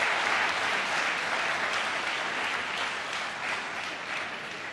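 An audience at an award event claps loudly and continuously, a thick wash of hands that swells slightly and then eases a little toward the end.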